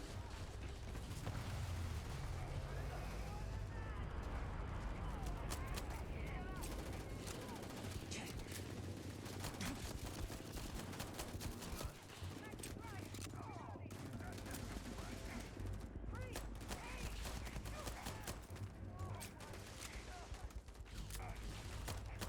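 Handgun fire in a space shooter video game, repeated sharp shots mixed with clanking mechanical game sounds over a dense, busy background, with a voice talking at times.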